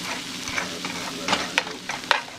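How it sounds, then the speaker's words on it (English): Jalapeno, onion, potatoes and carrot sizzle in a frying pan while a utensil stirs them, giving a steady close hiss broken by a few scraping clinks. "Just stir it up."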